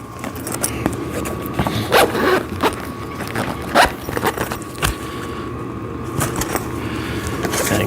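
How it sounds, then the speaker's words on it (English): Zipper being zipped on the pad cover of a VEVOR sissy squat machine, several short scratchy bursts with handling noise, close and fairly loud. "And then you want to zip this up."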